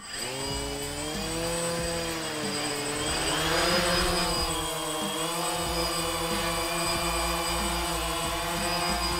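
DJI Phantom drone flying nearby, a continuous buzzing propeller whine whose pitch rises and falls as it manoeuvres, steady and prominent throughout with no talking.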